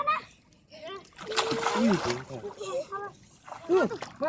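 Water splashing from someone swimming at a village swimming spot, a burst of close splashes midway and more near the end, with children and adults talking and calling throughout.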